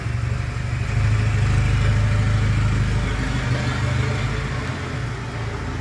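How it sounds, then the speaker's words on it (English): A Land Rover with its exhaust fallen off runs loudly, a rough, constant close-up engine roar that holds steady throughout with slight unevenness and no speech. "And yes, the Land Rover's noisy."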